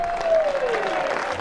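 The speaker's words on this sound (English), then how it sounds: "gets a generous round of applause" Applause from a darts championship crowd after a 135 score, a steady wash of clapping through the hall with a rising tone gliding beneath, filling the whole moment.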